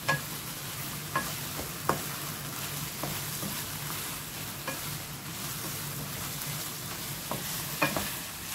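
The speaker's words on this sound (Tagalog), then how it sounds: "At atin idagdag ang mushrooms. Ayan. Paghaloin natin ulit." Chicken and mushrooms stirred in a hot pan, a steady sizzle running throughout with a few sharp scrapes and clinks of the spatula at irregular intervals, fairly close and moderately loud.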